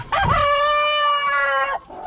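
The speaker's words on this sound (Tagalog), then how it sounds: "ito na kasi yung mga matatanda kong mga manok yan" A single older rooster crows loudly and close by, one long drawn-out call lasting over a second.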